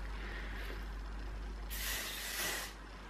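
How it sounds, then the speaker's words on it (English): A short spritz of hair and body shine mist from a spray bottle, a bright hiss lasting about a second near the middle, over a quiet steady hum. "Should we spray some in?"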